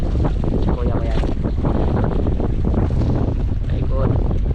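Strong wind roars steadily over the open sea around a squid fishing boat at night, a loud continuous rush with water wash beneath it and no pauses.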